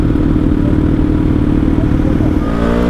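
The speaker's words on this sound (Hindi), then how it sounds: "अपन भी भगा देते हैं थोड़ी बाइक।" Superbike motorcycle engine running loud and close during a group ride, a continuous throaty rumble with a rising rev near the end.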